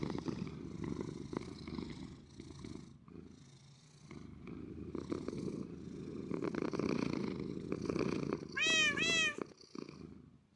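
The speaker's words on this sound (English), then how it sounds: "All of the purrs." A cat purrs steadily and close up in a quiet room, a soft rumbling purr that swells and fades, with a brief high chirping meow near the end.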